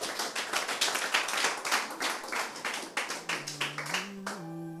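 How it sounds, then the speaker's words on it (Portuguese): A church congregation claps steadily in dense applause, loud and close, with a sustained musical tone rising up underneath toward the end. "Dê um aplauso a Jesus."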